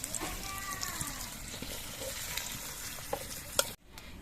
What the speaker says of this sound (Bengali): এই পনির পিসগুলো ঠিকঠাক মতো ভাজা হয়েছে এরকম সাদা সাদা করে কিন্তু পনিরগুলোকে ভাজতে হবে